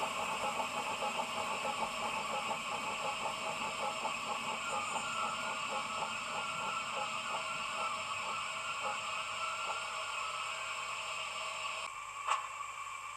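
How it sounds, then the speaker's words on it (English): An ESU steam locomotive sound decoder in a model train brakes with the regulator closed: a steady mechanical hum with a faint rhythmic chuffing beat that slowly fades, ending in a brief clank near the end. "So this time we'll apply the brakes, but we'll close the regulator."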